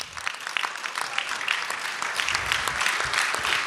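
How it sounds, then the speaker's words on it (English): Audience applause for veteran baseball scouts standing at a scout of the year event, a dense, steady patter of many hands clapping at moderate distance with no voices over it. "Give these guys a big round of applause."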